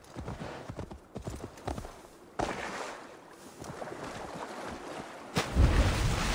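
Horse hooves clip-clop in quick rhythmic beats in the video game Assassin's Creed Valhalla, fairly soft, with water and ambient rushing sounds around them and a louder thump near the end.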